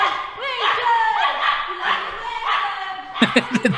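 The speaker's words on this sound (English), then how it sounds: "Dog following around." A dog close by whines and yips in rising and falling tones, then gives a quick burst of short, loud barks at the end.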